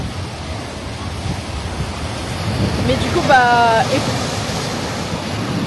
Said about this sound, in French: Je vous montre la plage où on devait se baigner. Un peu trop de vagues.